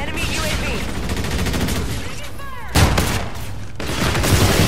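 Shotgun blasts during a hyper team deathmatch in Call of Duty: Infinite Warfare, with loud booming shots and bursts of other gunfire and game effects, close and continuous throughout.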